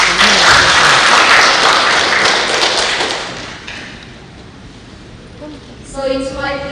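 A crowd applauds a speaker at a youth public speaking competition in Timor-Leste, loud dense clapping that fades over a few seconds before a voice begins talking.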